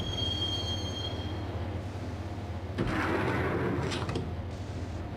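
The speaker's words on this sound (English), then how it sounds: "the train doors had already shut behind me, and I was in for the ride" Train rolling along rails in the Max Payne video game, a steady low rumble of wheels with a high squeal early on and a louder rattling surge midway, no voices.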